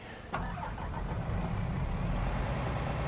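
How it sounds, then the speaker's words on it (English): Engine of a combine harvester with front crawler tracks in a farming video game, starting with a brief jolt and then running as a steady, loud, low drone. "I do like the engine sound on it. It's a really cool sounding harvester."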